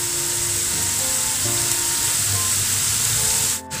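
Flour-coated rings deep-frying in hot oil give a steady, close sizzle with dense crackling bubbles, continuous for several seconds before a brief dip near the end.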